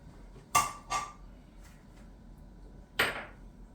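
A few light clinks of a small cat food dish being set down and handled, three sharp knocks spread apart, close by in a quiet room.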